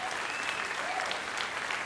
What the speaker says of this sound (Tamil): நல்ல கைதட்டு நீங்கள் கொடுக்கலாம், நல்ல கைதட்டு கொடுக்கலாம்